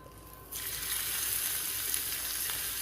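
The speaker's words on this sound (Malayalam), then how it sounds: "ഞാൻ ഇതിടാൻ പോവാം. വെളുത്തുള്ളിയും ചുവന്നുള്ളിയും" Crushed garlic and shallots hit hot oil in a pan, sparking a sudden sizzle about half a second in that settles into a steady, moderately loud frying hiss, close by and without talk.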